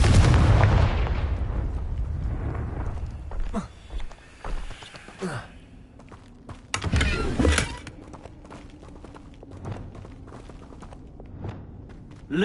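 A Confringo fire spell from Hogwarts Legacy goes off in a sharp blast with a thudding impact, followed by scattered game thumps and clatter across the scene.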